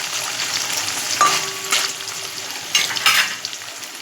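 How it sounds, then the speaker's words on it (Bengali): Paneer cubes fry in hot oil for a vegetarian coconut paneer dish, a steady close sizzle broken by a few soft scraping stirs as the cheese is gently turned until lightly browned. "এগুলোকে আমরা একদম হালকাভাবে নাড়াচাড়া দিয়ে হালকা লাল করে ভেজে"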